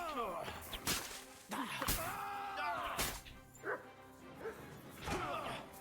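A dog barks repeatedly in the medieval action game Kingdom Come: Deliverance II, sharp close yaps and whines scattered among game sounds and clangs, with someone talking in between.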